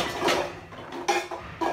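Metal kitchen pots and utensils clink and clatter as they are taken out one after another in a home kitchen, several close knocks and scrapes.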